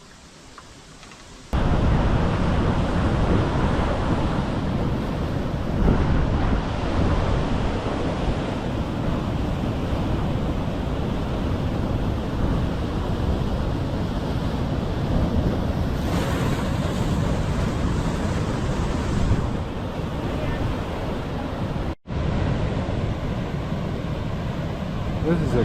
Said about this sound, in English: The waves are really, yeah, well, it's a high surf warning today.